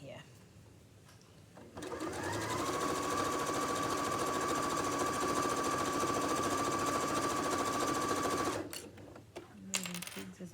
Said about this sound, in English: I'm only sewing the 2 layers of fabric as I come around